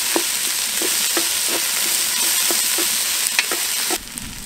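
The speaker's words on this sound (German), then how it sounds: "dann nehmen wir unseren Tomatenmark und machen den auch dran. Und rösten den schön mit an." Tomato paste roasting with vegetables in a hot pan sizzles loudly and steadily, with soft repeated stirring scrapes through the frying hiss and the sizzle dropping slightly near the end.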